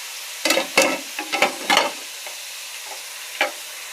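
Onion and mint sauté in a pan while being stirred, giving close, quick scraping and sizzling bursts in an uneven rhythm, then a quieter pause and one more stir.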